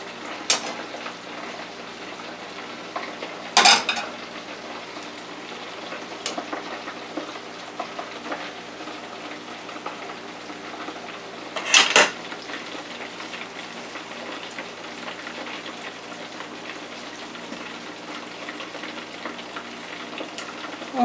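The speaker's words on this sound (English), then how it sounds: "so I'm gonna fry the piece that's in there" A piece of porgy fish fries in a pan, giving a steady broadband sizzle throughout with two brief louder crackles or spatters standing out, no voices.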